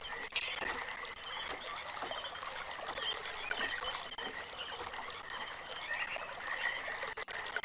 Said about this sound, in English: Oh, the sound of water.